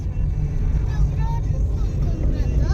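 Car driving up the winding Pasarni Ghat mountain road, a steady low engine drone and road rumble heard from inside, with a voice speaking faintly over it.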